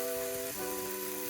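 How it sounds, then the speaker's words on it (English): Meat rubbed with salt and sugar hitting a hot oiled pan, a steady hiss of sizzling under a steady tonal hum that drops slightly halfway, brief and alone. "Put your meat into the pan"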